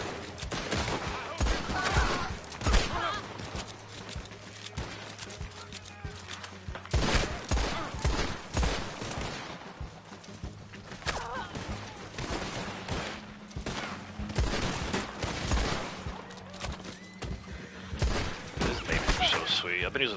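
Gunfire in the Red Dead Online video game, with dense bursts of rapid shots and booming reports over a busy, constant game soundscape with hoofbeat-like thuds, continuous throughout at moderate loudness.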